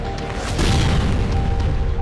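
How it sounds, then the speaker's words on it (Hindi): Bomb explosions in the Russia-Ukraine war, at night near a temporary camp: a heavy, sustained rumbling blast with a noisy roar spread across the range, loud and continuous without any voices. "तभी धमाकों की आवाज से दहशत मच गई।"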